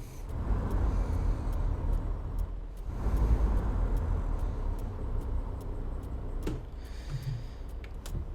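Low diesel engine rumble of the Roman Diesel truck in Euro Truck Simulator 2, steady and loud as it strains to pull away, swelling around the third second, with a short hiss and faint clicks near the end.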